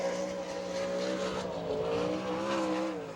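Sprint car number 98 on a qualifying lap at Attica, Ohio, its engine screaming loud and near, the pitch dipping and climbing as it works through the corners and along the straights.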